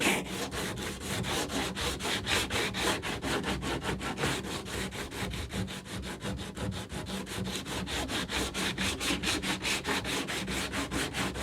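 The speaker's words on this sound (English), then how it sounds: "I'm just sanding very consistently within the confines of the cockpit." Steady rhythmic strokes of hand sanding inside the cockpit of a composite kayak, a fast even back-and-forth rasp repeating throughout at close range.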